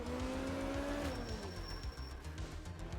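Group B rally car, an MG Metro 6R4, driving in the game Art of Rally: a steady engine drone with a falling pitch as it shifts, tyre scrub and road noise, heard alone with no talk.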